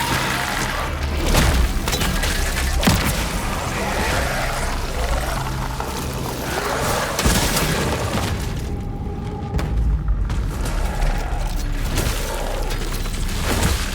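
Bombs detonate during combat in the horror video game Cronos: The New Dawn, producing a dense, loud stretch of rumbling blasts and sharp bursts that barely let up, with no talking.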